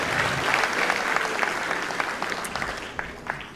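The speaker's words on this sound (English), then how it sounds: "Let's give them a nice, hearty round of applause" Audience at an elementary school spring concert claps steadily in a dense, fairly loud wash, thinning slightly toward the end with a few scattered sharper claps, no talking over it.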